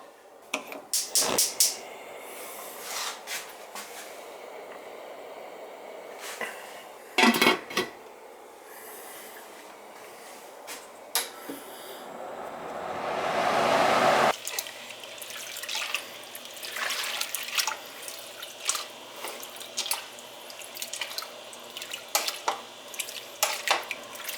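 Pea soup is stirred in a metal pot with scattered clinks and scrapes of a spoon against the sides, a stretch of running water in the middle, and intermittent knocks, all close and fairly quiet with no talk.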